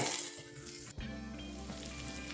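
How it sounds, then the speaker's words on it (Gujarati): Chopped onion sautés in a pan for tomato chutney with a soft, steady sizzle, quiet and close, and a brief clink near the start as the onion goes in. "હવે એમાં એક મોટો સમારેલો કાંદો એડ કરીએ છે એને પણ સાતળી લઈએ છે"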